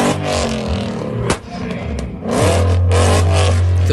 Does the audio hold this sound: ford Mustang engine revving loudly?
yes